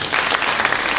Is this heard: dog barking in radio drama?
no